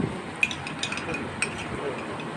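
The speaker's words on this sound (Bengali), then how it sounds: "দু চামচ দিয়ে ভালো করে আবার একটু নাড়াচাড়া করলাম" Paneer being stirred with mint paste in a pan, quiet scraping and a few sharp utensil clinks against the metal over a soft background.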